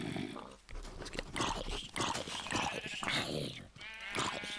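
Blocky sheep in Minecraft bleat over a busy, dense game soundscape, the wavering cries repeating several times at close range without pause.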